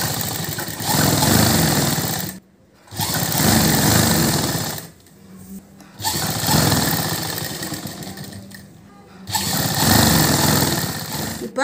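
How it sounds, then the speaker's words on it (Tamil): A sewing machine runs in long loud bursts while stitching the neckline of a lined boat-neck churidar, its steady whirring motor stopping briefly between three runs, no talk. "அதே போல் கழுத்து ஒரு தையல் மட்டும் போட போகிறோம்."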